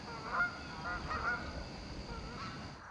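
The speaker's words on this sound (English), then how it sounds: "I watched and filmed some of the geese as they sort of had their breakfast one morning." Geese honking while feeding one morning at a quiet spot in Niagara Falls, Ontario, several calls in short bursts at moderate distance over steady outdoor ambience.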